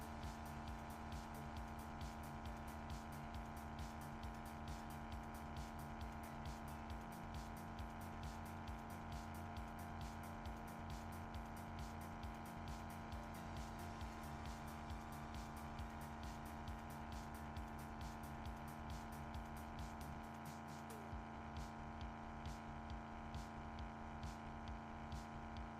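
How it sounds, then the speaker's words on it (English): A model train's engines run steadily throughout, a constant loud hum with a rhythmic pulsing low rumble and fine repetitive clicking, continuous and unbroken with no talking. "And I'll let the engines run."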